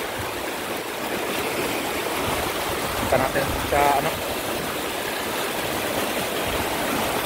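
Floodwater from a swollen river surges steadily at Caligayan, Tumauini, Isabela, a constant broad roar of rushing water close by, with someone talking over it.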